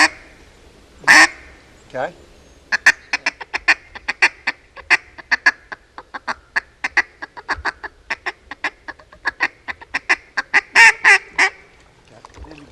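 Duck call imitating a hen mallard, sounding a long series of sharp, rhythmic quacks, loud and close, with a brief spoken word near the start.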